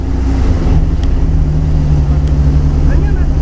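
A 1.9-litre car engine labours and revs on a steep off-road hill climb, a steady low drone under continuous nearby talk with faint background noise.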